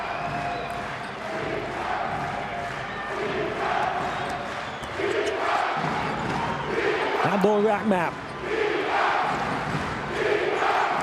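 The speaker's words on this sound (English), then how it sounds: "It's a Lebanese crowd now here in Jeddah, Saudi Arabia." A Lebanese crowd cheers at a FIBA Basketball World Cup qualifier against Saudi Arabia in Jeddah, a steady loud roar with swells under continuous commentary, with ball bounces faintly audible.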